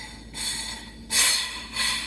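Several bursts of sharp hissing as a carbonated drink is vented, each lasting under a second with short pauses between, loud and close.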